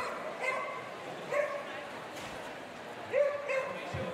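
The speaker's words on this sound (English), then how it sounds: "Barking his way around the course" A beagle barks and yips at intervals while running an agility course at a world championship, the sharp calls rising over a crowded arena background with a commentator talking.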